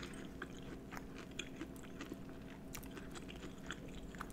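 Someone bites into and chews crunchy battered fried chicken up close, with irregular crisp crunches and soft mastication over a quiet steady background, no talking.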